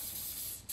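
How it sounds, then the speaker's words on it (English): Coconut oil cooking spray hisses in a short, steady burst while greasing muffin tins, close up and alone. "just coconut oil spray"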